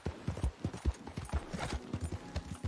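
Horse hooves in Red Dead Redemption 2 beat out a steady, rhythmic gallop of close, thudding clip-clops at a quick even pace, fairly quiet overall and with no talking.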